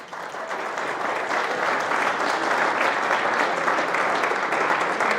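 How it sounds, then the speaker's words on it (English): A school audience applauds its teachers in a loud, sustained wash of clapping that swells in the first second and then holds steady without talk. "Give them a big applause."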